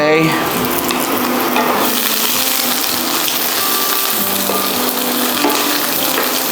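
Sofrito of garlic and peperoncino frying in a hot pan for radiatori al tonno, a loud, close, continuous sizzle with faint stirring scrapes, no talk.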